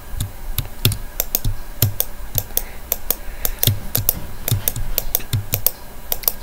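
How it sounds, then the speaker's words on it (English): Rapid, steady computer mouse clicks while playing Terraria, sharp close taps repeating in an uneven rhythm over a faint background hum, with no talking. "ASMR mouse clicking."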